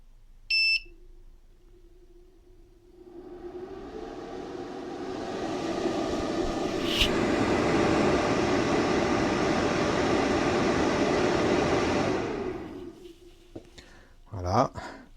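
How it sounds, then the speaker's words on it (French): After a short beep, the cooling fan of a 3000W 24V-to-230V pure sine power inverter spins up into a loud, steady whirring roar with a constant hum, runs several seconds, then winds down. "Le ventilateur se met à fond."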